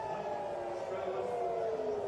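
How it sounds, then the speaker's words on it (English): An air raid siren sounds across Tel Aviv, heard as a steady, sustained wail outside that continues without a break. "This is the air raid siren for all of Tel Aviv"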